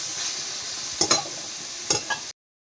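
Leafy greens (shak) with lentil dumplings (bori) frying in a pan make a steady close sizzle, broken by a few louder scraping stirs before the sound cuts off abruptly.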